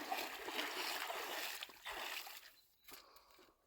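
Water from a watering can splashes and trickles onto newly planted garden plants, a close sloshing pour that eases off and comes back in short bursts, with no talk.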